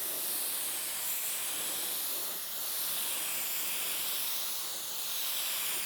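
Spray gun laying down the final primer coat on a car hood, a steady close hiss with gentle swells as the passes continue, alone with no talk.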